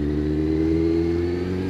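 A Kawasaki Z1000 motorcycle engine hums steadily during a ride, a close, continuous low drone with a constant pitch throughout.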